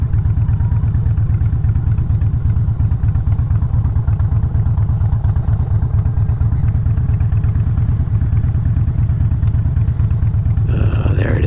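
A motorcycle rides at night with a loud, steady, close engine drone and pulsing low rumble that holds nearly constant throughout, with a brief change near the end.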